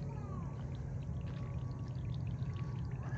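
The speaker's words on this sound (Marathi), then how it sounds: "आधी भिंतींना आता पाणी मारून घेते" Water is sprayed onto freshly built walls at a farm, heard as a steady, continuous hissing splash with a constant low rumble underneath and no break throughout.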